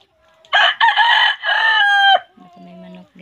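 A rooster crows loudly and close by in a morning rural setting, one long strained call that breaks off sharply, followed by a few softer clucks.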